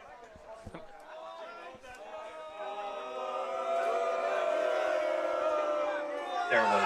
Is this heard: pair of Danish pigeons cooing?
no